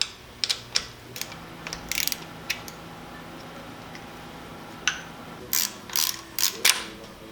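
A hand ratchet works on 10 mm chain tensioner bolts on an SR20DET engine, giving quiet clusters of fast clicking pawl ticks in short bursts separated by pauses, with no talking.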